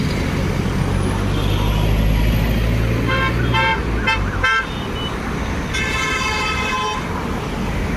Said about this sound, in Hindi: सामने तेज तेज गाड़ियां भाग रही थीं।